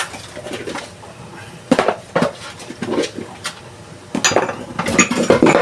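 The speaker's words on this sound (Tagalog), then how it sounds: "hugasan ko naman itong hugasin dito" Dishes, pots and utensils being washed by hand, giving scattered clanks and clatters of metal and crockery, some close and sharp, with quieter gaps between and a busier cluster near the end, no talking.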